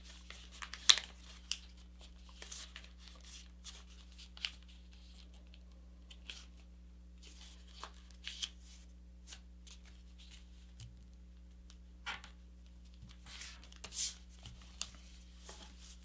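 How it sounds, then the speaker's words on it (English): A sheet of paper is folded and creased into a competition paper airplane, with quiet, intermittent crinkles, rustles and sharp creasing swipes close by over a low steady hum. "Once you do one side, you just fold the other side to match."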